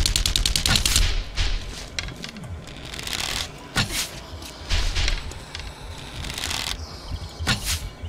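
An SMG fires in the video game 7 Days to Die, a quick rattling automatic burst at the start followed by more bursts and single loud shots spread across several seconds.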